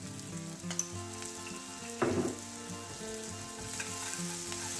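A pinch of salt and brown sugar caramelising in a frying pan for a steak sandwich, giving a steady close sizzle with a brief louder crackle partway through, and no talking.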